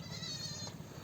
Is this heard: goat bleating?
yes